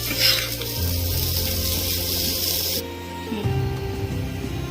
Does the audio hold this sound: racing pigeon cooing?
no